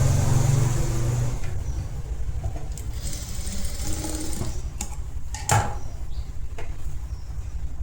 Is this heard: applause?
no